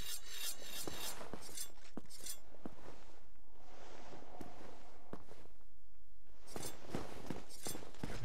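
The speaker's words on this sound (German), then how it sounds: "Du schärfst hier eine Waffe, oder?" In Dark Souls, a weapon is sharpened on a grindstone with repeated gritty rasping strokes, interrupted by brief pauses and a few light clinks.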